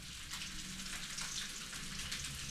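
Split fish frying in a pan, a steady close sizzle and crackle of hot oil running without pause, with no talking.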